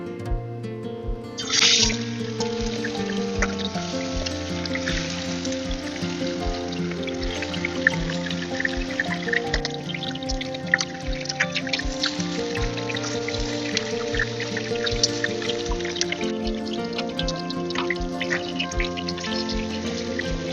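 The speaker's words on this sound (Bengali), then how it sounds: "তেল গরম হয়ে গিয়েছে, এবার এর মধ্যে মাংসগুলো দিয়ে ভেজে নেব" Chicken pieces laid into hot oil for frying, a sudden burst of sizzle followed by a steady, crackling fry with scattered pops, continuing evenly and close with no talk.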